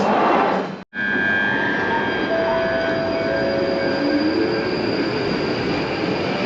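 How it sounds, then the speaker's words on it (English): A London Underground Northern Line train pulls into the platform, a loud sustained rumbling roar with a rising high whine, heard close and steady after a brief dropout near the start. "Northern Line, the train now approaching is to Edgware."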